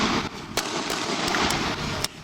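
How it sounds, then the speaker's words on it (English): About five sharp gunshots ring out at irregular intervals in a Houston alleyway, each a short, fairly distant crack over a constant outdoor background. "shots fired over here"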